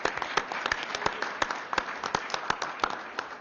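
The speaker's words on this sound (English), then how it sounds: "give a round of applause to everybody who spoke and testified today" Audience applause at a hearing for those who testified, with dense, even clapping from a crowd heard from mid-distance and sustained throughout without a break.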